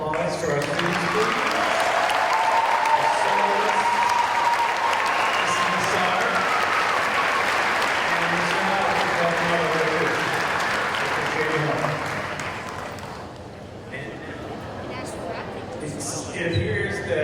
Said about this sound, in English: Let's give another round of applause to our students, please.